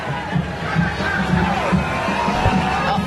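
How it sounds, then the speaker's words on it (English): Large crowd gathered outdoors during a police presence, a steady wash of distant murmuring voices and low crowd noise with no single speaker standing out. "there's a large crowd here"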